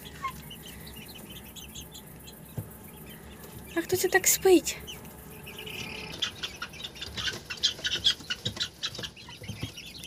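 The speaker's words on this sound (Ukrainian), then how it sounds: "Покажу, як сплять бентамочки і ці курчата." Bantam chickens and young chicks settle in a coop at night, giving soft scattered clucks and peeping chirps while someone speaks quietly nearby.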